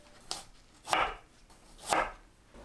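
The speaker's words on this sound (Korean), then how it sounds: "생강 1톨을 썰어줍니다." A knife slices a piece of ginger for a tangerine syrup, giving three separate chopping strokes spaced about a second apart. They are moderately loud and close, with no talking.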